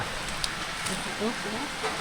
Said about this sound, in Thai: ฝนตก โอ้ บรรยากาศฝนตกพี่น้อง